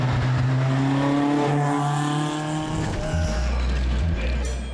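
Rear-mounted engine of a 1966 Matra Djet 6 running steadily and loud throughout, a low droning tone with rising and falling pitch as it revs, the note dropping deeper near the end.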